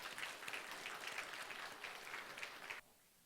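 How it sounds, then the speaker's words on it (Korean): Congregation applauding after an infant baptism at an Easter church service, a soft, distant, even patter of many hands that stops abruptly near the end, leaving near silence. "박수 한번 보내주시기 바랍니다"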